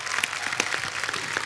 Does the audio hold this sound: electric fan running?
no